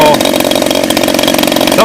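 A DLE 30cc model engine runs at steady high speed, a loud, close, buzzing two-stroke drone that holds constant throughout, with a voice briefly audible over it.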